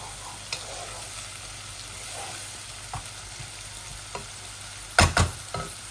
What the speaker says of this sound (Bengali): এই অনিয়নগুলো আস্তে আস্তে লাল হোক।